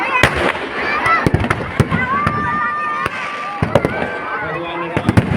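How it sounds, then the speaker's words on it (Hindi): Fireworks crackle and bang continuously at a Ravan Dahan celebration, with sharp pops and whistling streaks over a dense outdoor crowd murmur. "आतिशबाजी का सुंदर नजारा"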